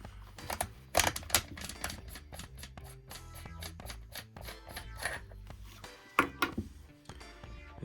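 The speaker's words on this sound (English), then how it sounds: "you unscrew the cap" Quick metallic ratcheting clicks as the cap of a Benelli Super Black Eagle shotgun is unscrewed, a close, dense run of small ticks with a few louder clacks.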